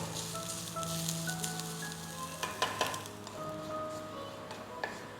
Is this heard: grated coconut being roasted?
yes